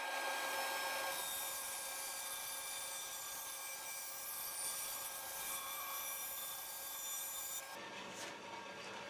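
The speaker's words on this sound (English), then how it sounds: "So let's take this over to the bandsaw and get started." A bandsaw cuts through a piece of wood for a small cold frame greenhouse build, a continuous bright whine and rasp that holds steady for several seconds before the blade sound drops off near the end.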